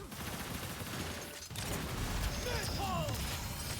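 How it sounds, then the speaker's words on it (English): Grenade hit in a Bonk's Breach Bash video game fight, a dense crackle of gunfire and impact noise with a sharp burst of effects in the middle, loud and busy throughout. "Oh, grenade hits just barely."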